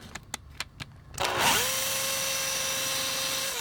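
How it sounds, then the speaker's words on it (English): A Makita power drill drills a hole in a plastic Transformers G1 toy part during disassembly, a few faint clicks giving way to a steady, loud motor whine that spins up and holds close by without talk. "so I drilled two of them"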